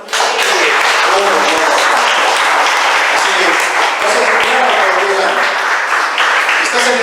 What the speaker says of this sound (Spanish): Así que denle un aplauso al Señor.